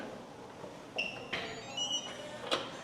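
A hotel room door lock in Mong Cai, Vietnam gives a short electronic chime, a few high beeping tones over a couple of seconds in a quiet hallway.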